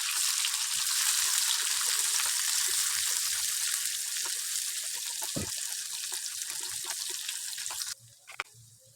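Shallots, curry leaves and dried red chillies fry in coconut oil after mustard seeds have popped, making a bright, steady close sizzle that fades slightly before cutting off near the end.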